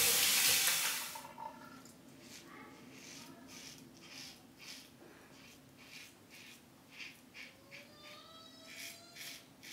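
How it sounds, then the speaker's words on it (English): Running water from a tap as hands are rinsed after lathering with a Simpson Trafalgar T3 synthetic shaving brush, a loud gush at first and then a softer, uneven splashing trickle. "I gotta rinse the hands"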